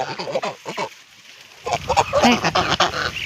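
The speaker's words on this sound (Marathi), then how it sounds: "आम्हाला बदक बघायचे" Ducks in a guava orchard give loud, nasal, honking quacks up close. A quick run of calls is followed by a short lull, then a busier, overlapping burst.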